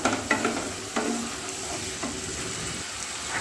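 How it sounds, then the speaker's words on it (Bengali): Spices with onion paste, salt and turmeric sautéing in a pan for a Bengali fish head curry with moong dal, a steady close sizzle with a few stirring scrapes and knocks. "ভালোভাবে মশলাটাকে কষিয়ে নেব।"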